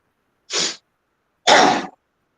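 Two sharp, breathy coughs, close and loud, separated by about a second of silence, with no voices around them.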